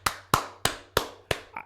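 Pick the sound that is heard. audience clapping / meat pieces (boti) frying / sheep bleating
audience clapping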